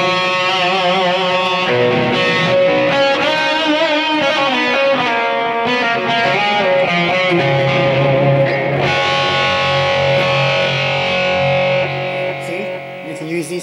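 Distorted electric guitar through a Boss eBand JS-10 4x12 stack model, played in sustained chords and melodic bends with steady rhythm, loud and up front, briefly quieter toward the end.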